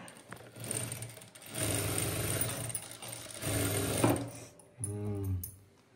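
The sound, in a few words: sewing machine stitching a churidar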